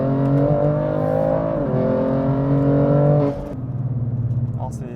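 A tuned BMW M2 Competition, Stage 2 at 630 hp, drives hard with a loud, close engine drone that holds steady, dips in pitch, then drops off into a softer pulsing rumble near the end.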